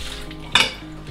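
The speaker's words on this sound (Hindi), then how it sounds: "खाना खाकर फिर मैं डिशेस करने लगता हूँ" Dishes being washed after dinner in a home kitchen: a brief clatter of cutlery and plates near the middle, set against a low running background, with no talking.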